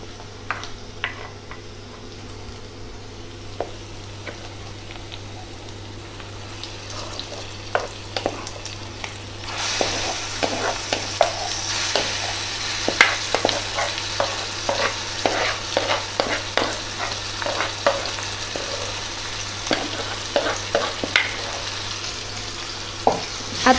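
Mashed eggplant bharit with fried chillies, peanuts and spring onion is stirred in a pan, a quiet scraping at first, then from about ten seconds a louder sizzle with frequent clacking spoon strokes against the pan.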